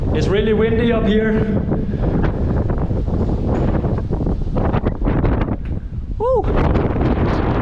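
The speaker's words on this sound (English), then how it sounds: "It's really windy up here." Strong wind buffeting the microphone on a high, exposed spot in the Sahara during a summer cycling trip, a constant roaring rush, with a voice calling out briefly over it.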